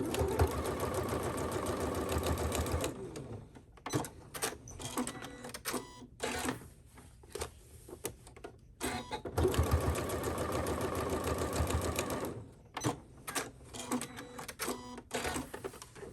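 Sewing machine basting down the raw edges of fabric, running in steady whirring bursts that stop and restart with short mechanical clicks and pauses in between, close and loud.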